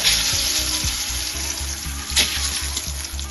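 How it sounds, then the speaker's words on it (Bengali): Mustard seeds sizzle and crackle in hot oil in a heated kadai, tempering for shukto with coconut milk, a dense, loud, continuous frying hiss with small pops and a low hum beneath, no voices. "এবার আমি সর্ষে ফোড়ন দিয়ে দিয়েছি"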